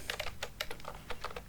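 Quick clicky keystrokes on a budget computer keyboard priced under ten dollars, tapping in fast irregular bursts, close and fairly soft, with no talking.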